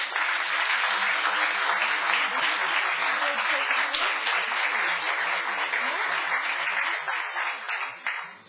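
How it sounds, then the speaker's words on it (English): Audience applause fills a Los Gatos town council meeting, loud and even, a dense sustained clatter of many hands that tapers off near the end. "Applause again."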